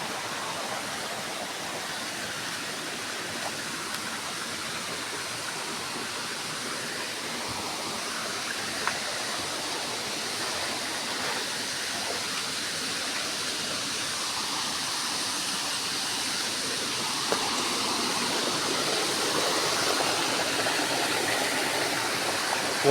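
Water flowing steadily in a field, a continuous close rushing and gurgling that holds at an even level throughout without pauses and with no talking.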